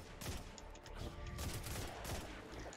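Rapid volleys of gunfire from the video game Destiny 2, crackling in steady bursts with a constant hum of game audio underneath and no voices.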